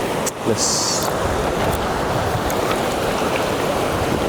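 Steady broadband rushing of a fast-flowing stream fills the clip, swollen after heavy rain upstream, loud and constant, close by.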